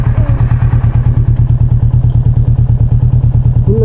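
A motorcycle rides a narrow road toward Kundadri Hills just after a gear downshift. Its engine pulses in a loud, steady, rapid thumping rhythm close to the microphone, with no talking.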